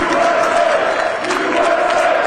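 Crowd chanting and cheering on the floor of the New York Stock Exchange at the opening bell, a loud, steady roar of many voices filling the whole moment.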